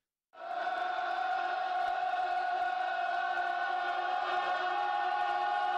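A large crowd roars loudly and continuously from a played video, like a soccer crowd, cutting in abruptly and then holding a sustained, echoing wall of cheering and chanting.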